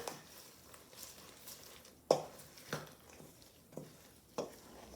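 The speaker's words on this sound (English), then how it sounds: "And stir everything together." Stiff banana nut bread batter stirred by hand in a mixing bowl, with scattered soft scraping thumps and clacks from the spoon at an irregular pace, close and fairly quiet, with no talking.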